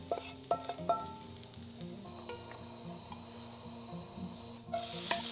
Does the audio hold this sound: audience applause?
no